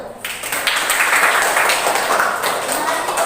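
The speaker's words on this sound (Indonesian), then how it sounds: "Oke, beri tepuk tangan untuk kelompok 1." A classroom group claps for a presenting student group after their talk, a broad burst of hand clapping that starts abruptly and carries on steadily for a few seconds at close range.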